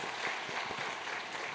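A church congregation claps in welcome, a steady, fairly distant patter of applause from many hands filling the room without a break.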